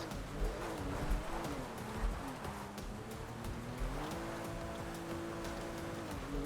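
A powerful car's engine drones steadily in a GTA 5 mod as it slides and climbs an icy track, its pitch rising and falling with bursts of throttle, mixed with scrabbling wheel noise throughout.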